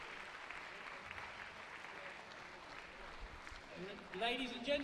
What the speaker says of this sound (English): Ladies and gentlemen, hands together again for Abdallah Eissa.